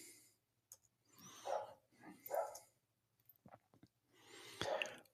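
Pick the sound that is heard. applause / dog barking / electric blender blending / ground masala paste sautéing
dog barking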